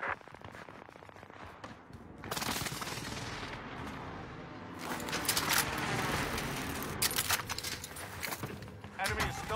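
Video game airstrike called in during a squad match, a loud barrage of gunfire and explosive blasts rolling through most of the stretch, with players talking over the combat.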